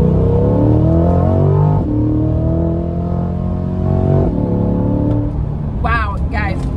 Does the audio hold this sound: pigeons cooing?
no